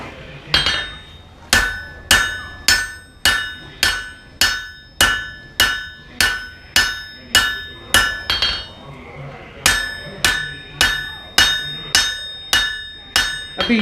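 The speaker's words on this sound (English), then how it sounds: "Now if you hammer the bevels carefully," Regular hammer blows ringing on a metal knife blade as its bevels are forged, around twenty strikes in a steady rhythm with a brief pause midway, loud and close.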